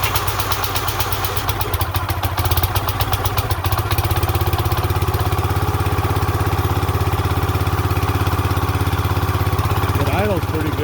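A Black Diamond 25-ton log splitter's small engine idles steadily with a continuous, even mechanical drone and faint clatter, fairly close and sustained throughout, with no speech over it.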